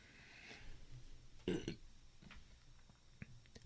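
A single short burp from a podcast host mid-conversation, fairly faint and close, rising briefly above a quiet room.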